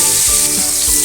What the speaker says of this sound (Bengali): এবার কড়াইতে আমি তেল দিয়ে দিলাম। আলুগুলো ভেজে নেব।